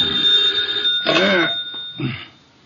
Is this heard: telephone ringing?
yes